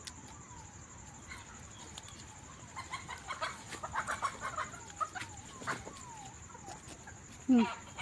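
Chickens at a rural home clucking faintly in the distance, a series of soft repeated clucks with a louder squawk near the end, over quiet background.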